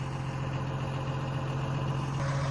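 Truck stuck in a field, its engine idling with a steady low throbbing hum close by, unbroken and without voices.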